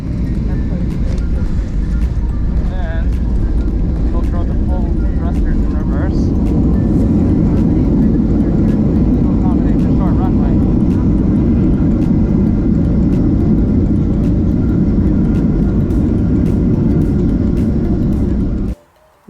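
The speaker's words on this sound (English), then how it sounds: "the pilots have to throw the thrusters in full reverse when you land at LaGuardia" Airliner landing at LaGuardia in New York City with thrust reversers deployed, a loud, steady low roar of engine and airflow that holds for about eighteen seconds, heard from inside the cabin, then cuts off abruptly.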